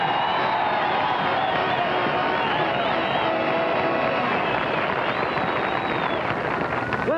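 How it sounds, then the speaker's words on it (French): A television studio audience greets Elvis Presley's introduction with loud, sustained applause and crowd noise, a dense roar carrying on for several seconds with a rising tone near the end. "Je vous demande d'applaudir chaleureusement Elvis Presley."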